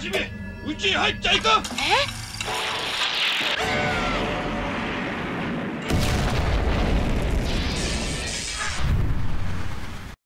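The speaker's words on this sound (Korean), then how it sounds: "오지 말라는 아빠의 외침과 함께 거대한 폭발이 일어났습니다" Huge animated explosion at a house, a deep booming blast followed by a sustained roaring rumble and debris noise, with dramatic music and a narrator speaking over it.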